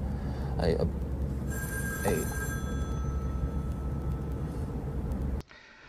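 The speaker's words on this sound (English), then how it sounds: "Watch his eyes when he hears the phone ring." An old-style telephone bell rings in two short bursts, moderately loud over a steady background hum, before the sound cuts off abruptly near the end.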